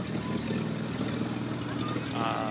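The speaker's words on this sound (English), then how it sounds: "you can hear the tractor" A Moline tractor engine runs in a street parade in Roseville, Minnesota, a low steady drone heard at moderate distance beneath crowd ambience.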